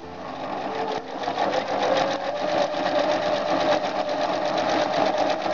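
A sewing machine stitches the hem of a doll's skirt with a fast, steady mechanical whirr and rattle, close and loud, running almost without pause and with no voices.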